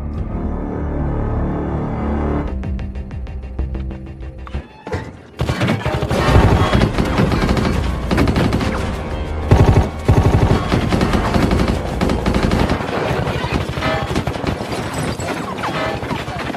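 Loud, dense rattling of sustained gunfire and booming impacts in The Walking Dead season 8 fill the scene, layered over a tense, droning background with a few heavier thuds.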